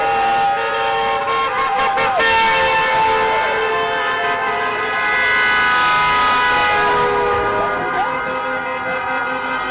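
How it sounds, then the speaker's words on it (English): Car and truck horns honk almost constantly at a street protest in Ocala, Florida, with long sustained blasts layered over a loud crowd noise throughout. "there was constant honking."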